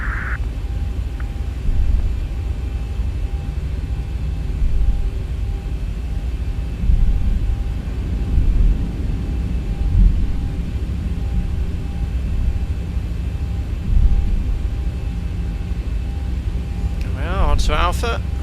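A Boeing 737 in a flight simulator rolls for takeoff from runway 16 left. A steady low engine rumble and airflow hiss swell in waves throughout, with a voice talking over it now and then.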